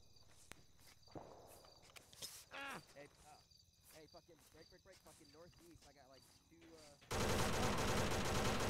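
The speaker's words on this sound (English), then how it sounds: "And some sort of machine gun south." Machine-gun fire in an Arma military simulation: a dense, continuous roar of noise bursts in near the end, after stretches of radio chatter and footsteps.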